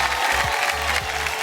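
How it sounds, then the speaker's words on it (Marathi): Applause and cheering from a studio audience for the winner of a Marathi TV game show, a steady dense wash of clapping with a low musical drone underneath. "एकदा जोरदार टाळ्या होऊन जाते, जोरदार टाळ्या"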